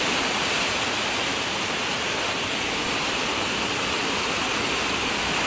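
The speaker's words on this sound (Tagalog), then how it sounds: "Kusog yung uwan." Heavy rain pours in Carmen, Siargao, a loud, dense, unbroken hiss of falling water filling the whole stretch with no gaps and no voices.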